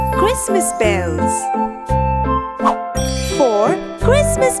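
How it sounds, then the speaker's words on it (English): Christmas bells jingle in a bright, repeated pattern over a cheerful musical backing for a children's learning cartoon, the loud tinkling notes coming in short bursts. "Christmas bells."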